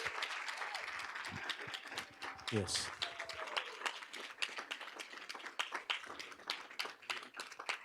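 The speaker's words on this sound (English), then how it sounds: "We want to give you a round of applause for your hard work." A board of education meeting audience applauds students in a steady, moderately distant round of clapping that continues throughout, with a brief voice and a few scattered room noises mixed in.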